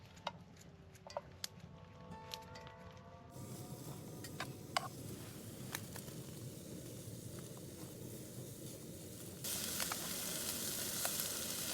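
Bacon sizzles and crackles in a hot pan, a steady frying hiss with scattered small pops and ticks, rising louder and brighter near the end, with no one talking.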